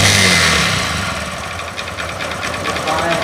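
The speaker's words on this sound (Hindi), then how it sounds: "जब मैं इस गाड़ी के अंदर रेस नहीं दे रहा हूं तो इसके अंदर जो आवाज़ आ रही है वो आ रही पिस्टन की" A Honda motorcycle engine idles without throttle, giving a close, steady low mechanical chug with rattling piston noise, loud at first and then settling slightly.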